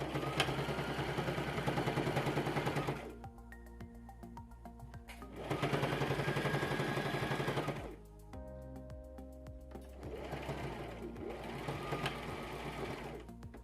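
A sewing machine stitches a straight line to secure the placket flap over the seam allowance on a polo shirt, running in three close, steady bursts separated by quieter pauses, with no talking.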